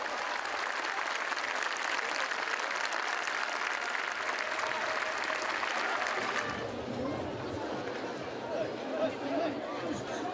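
Spectators at a Portuguese bullfight give sustained applause for a mounted female bullfighter, a dense, loud clapping that fades toward the end into softer crowd murmur.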